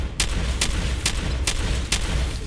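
Enemy gunfire in the video game Fallout 4, five evenly spaced loud shots over a dense, rumbling battle background.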